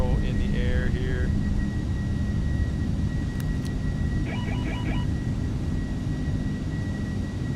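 A Boeing 747-8i takes off in a flight simulator, a steady broad engine roar throughout, with a few short electronic beeps and tones over it, no talking.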